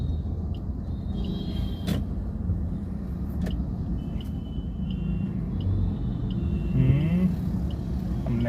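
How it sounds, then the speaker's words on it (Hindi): Steady road traffic while stopped in a jam, a continuous low engine rumble from nearby cars and motor vehicles with a few faint high tones, and a vehicle passing more loudly near the end. "यहाँ ट्रैफिक है।"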